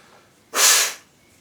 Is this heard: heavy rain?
no